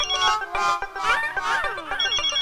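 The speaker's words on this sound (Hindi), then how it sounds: "ये जब तक फोन नहीं चकेंगे ना तब तक वो रिंग बजाता रहेगा।" A boss's call rings a mobile phone with a melodic electronic ringtone that repeats continuously and loudly close by, with a brief faint voice under it.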